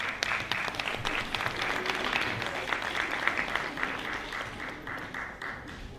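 An audience at a gala folk concert applauds a vocal ensemble with dense, sustained clapping that stays loud throughout and eases slightly toward the end.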